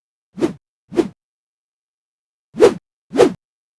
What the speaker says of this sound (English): So that's kind of this whoosh element.